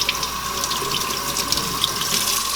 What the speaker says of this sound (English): I'm just going to pour it down the sink.